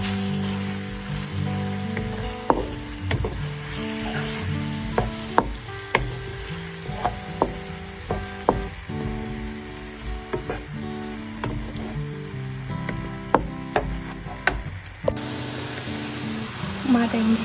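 Chopped onions sizzling as they fry in a karahi, a steady crackle running throughout with occasional clinks of stirring, while a voice talks over the cooking.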